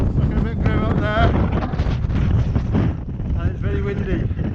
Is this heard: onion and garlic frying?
no